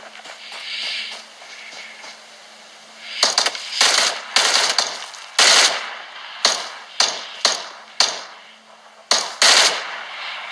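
Gunfire in the video game PUBG comes as a string of loud, sharp shots and short bursts, some close together and some spaced out, over a quieter stretch of background game noise at the start.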